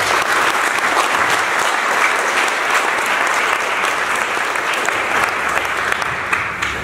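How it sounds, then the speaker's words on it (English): An audience at a Christmas breakfast charity event in San Diego breaks into sustained, dense applause, loud and steady throughout with no talking over it. "Let's clap it up for all of us."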